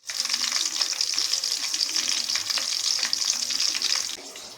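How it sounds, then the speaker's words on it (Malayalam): Chicken frying in a pan in a home kitchen, a steady loud crackling sizzle that continues evenly throughout with no talking, easing slightly near the end. "എൻ്റെ അമ്മ തന്നെയാണ് ചിക്കൻ പൊരിക്കുന്നത്"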